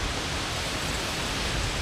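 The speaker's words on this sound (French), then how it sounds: "Et là il y a du vent." Wind blowing on the Rhine riverbank during carp fishing, a steady broadband roar buffeting the microphone, constant and loud with no pauses, and no voices heard.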